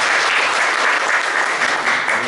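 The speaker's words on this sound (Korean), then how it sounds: "우리 박수로 마치도록 하겠습니다." A church congregation claps together at the close of a Bible class prayer, a dense, loud, steady burst of applause from many hands lasting a couple of seconds.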